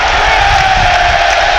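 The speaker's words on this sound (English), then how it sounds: "that's a big cheer there" A big football stadium crowd roars in a sustained, loud cheer during a Premier League match between Brighton & Hove Albion and Newcastle United, a dense wash of many voices filling the whole moment.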